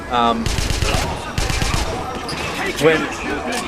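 MP40 submachine gun fire in Wolfenstein (2009), set in Isenstadt, heard as two short rapid bursts of shots with game sounds and a voice talking around them.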